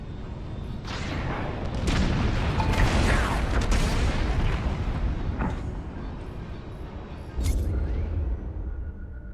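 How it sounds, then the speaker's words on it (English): Bombs detonating in the Star Wars Squadrons space-combat game, heavy rumbling booms and blasts rolling one after another under dense low-end engine roar, with a fresh burst near the end. "On my mark, it's bombs away."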